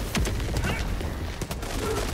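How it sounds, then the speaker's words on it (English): Grenade explosions in Helldivers 2 burst out in quick succession, a dense, chaotic stretch of booming blasts and debris that stays loud throughout. "Fire, I'm throwing grenades."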